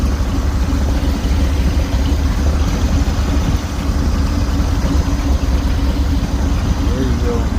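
A 1969 Jeepster Commando engine idles steadily at close range, a continuous low rumble holding even throughout with no pauses.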